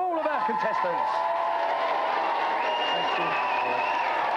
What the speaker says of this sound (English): let's have a big round of applause for all of our contestants